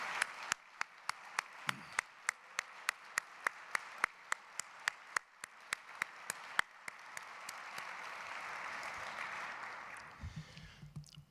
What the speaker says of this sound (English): I'd like to ask everybody to give him a big round of applause